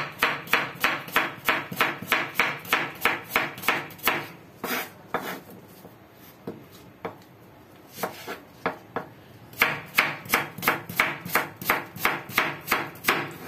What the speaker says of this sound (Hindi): इस तरह से हम कटिंग कर लेंगे ऑनियन की।